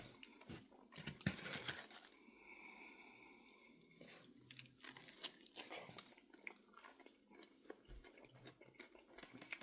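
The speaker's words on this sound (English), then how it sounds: "it's a lot of chewing" Close, wet chewing of food with soft crunches and squishy bites, steady and continuous with brief pauses, no talking.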